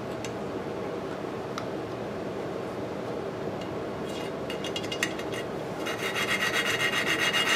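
A valve seat in a scooter engine cylinder head is ground by hand, giving a steady close scraping, rasping rub that grows into quicker rhythmic strokes toward the end.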